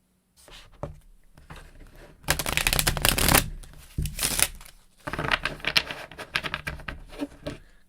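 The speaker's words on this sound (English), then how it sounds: "So let's do a quick shuffle." A tarot card deck is shuffled close by in quick riffling bursts and soft patters, with a brief pause in the middle before another run of crisp card flutter.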